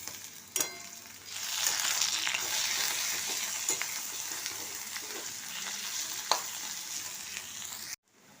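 Ginger and garlic sizzle with onions in a pan for chicken biryani, a steady close frying crackle with occasional sharper stirring clinks.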